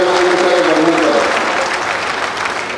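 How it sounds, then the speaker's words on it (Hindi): Crowd applause welcoming guests at an Indian public event with the chief minister and a union minister, a loud, dense burst of clapping that holds steady for a few seconds, with a faint voice underneath early on. "एक बार तालियां बजा के सभी लोगों का स्वागत करें।"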